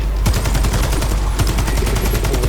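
Rapid automatic gunfire from the Warface video game during a co-op special operation rattles loudly and continuously, fast evenly spaced shots filling the whole stretch with no talk over them.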